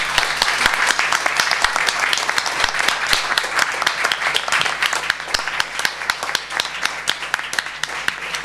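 An audience at a literary conference panel applauds with a dense, steady wash of clapping that holds for several seconds without speech.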